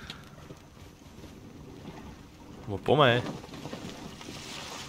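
A boat moving on water in the video game Assassin's Creed Origins, with a steady wash of water and wind throughout and a brief spoken remark partway through.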